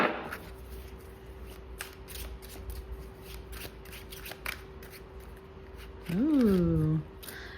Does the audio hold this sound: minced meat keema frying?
no